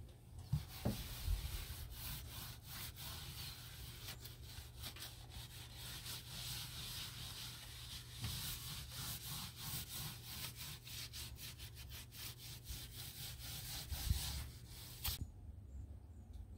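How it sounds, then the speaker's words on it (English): Steady rhythmic scrubbing of a vinyl plank floor in a Bigfoot 10.6 truck camper with Dawn soap, vinegar and water, a brisk back-and-forth rasp running nonstop for about fifteen seconds before cutting off. "We're scrubbing the floor with a little bit of Dawn, vinegar, and water to clean the residue off."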